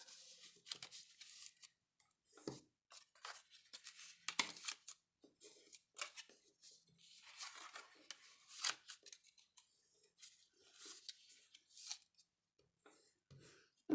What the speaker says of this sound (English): So let me get a bone folder, and we're going to fold on all of these score lines.